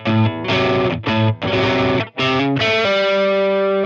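An electric guitar with distortion and chorus plays a hammer-on riff, several short picked phrases separated by brief gaps, ending on a long sustained chord, loud and close with no voice.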